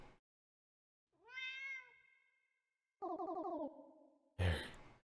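A cat in the video game Goodbye World gives two drawn-out, wavering meows separated by silence, followed by a short breathy puff, heard alone and clearly.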